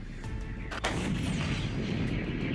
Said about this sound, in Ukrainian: Кілька десятків пострілів, і українська САУ стала жахом для окупантів.